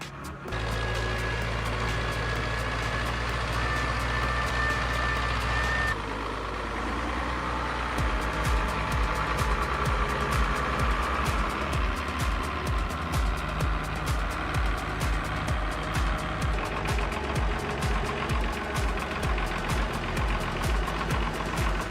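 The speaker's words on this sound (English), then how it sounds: "The wheels swirled in mud and water, and the engine roared incessantly." A Belarus MTZ-1221 tractor rated at over 130 horsepower strains while stuck deep in mud. Its engine drones loud and steady, then shifts into a rougher, pulsing roar with rapid knocking as the wheels churn through mud and water.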